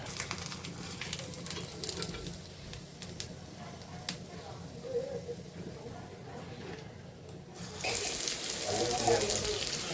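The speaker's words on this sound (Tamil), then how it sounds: "குழம்பு நல்லா கொதிக்க கொதிக்க மணக்க மணக்க ரெடி ஆயிடுச்சுங்க" A village-style pomfret fish curry with eggplant simmers in a pot, giving a soft, continuous bubbling and sizzling that grows louder toward the end, with faint background sounds.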